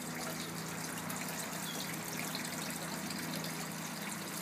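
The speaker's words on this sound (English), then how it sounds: "the water is being pumped from inside the sump, following this clear tubing" Steady rushing flow of water pumped from an aquaponics sump through clear tubing in a constant-height, one-pump system, a continuous even gush and trickle throughout.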